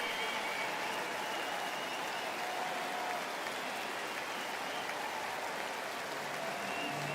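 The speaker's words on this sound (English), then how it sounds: "Cease is going to get a big ovation from this sellout crowd" Sustained roar of a sellout baseball crowd applauding and cheering a pitcher, a steady wash of clapping and voices filling the stadium throughout, with no breaks.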